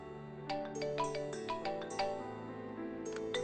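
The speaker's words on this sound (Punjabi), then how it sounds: "ਜੈਸਿਕਾ ਮਮ ਦਾ ਫੋਨ ਹੈ।" A mobile phone ringtone plays a bright electronic melody of repeated tonal notes in a steady pattern, clear and close, with no talking.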